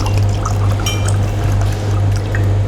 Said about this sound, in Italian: Sai come si sente questo rumore dell'acqua nel microfono?